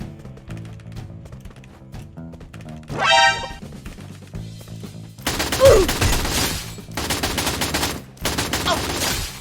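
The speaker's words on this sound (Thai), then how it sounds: "ลองยิงไอ้บอสสิ" M4A1 rifle fire sounds in the Free Fire video game. After a quieter stretch of game sounds, rapid bursts of automatic fire come in several loud, close runs separated by short pauses.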